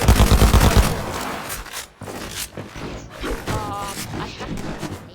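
A rapid-fire weapon in a video game, with a fast burst of dense shots at the start, then scattered impacts and mechanical clicks under a speaking voice.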